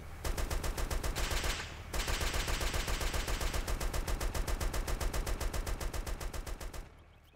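Rapid, steady automatic gunfire from an L94A1 chain gun in ArmA 2: Operation Arrowhead, loud and continuous for several seconds with a brief gap early on, ending abruptly.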